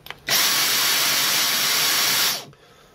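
Dyson DC44 cordless stick vacuum cleaner running with no attachment fitted, a loud steady high-pitched whirring hiss that starts abruptly, holds constant for about two seconds and then cuts off, heard close up on its own.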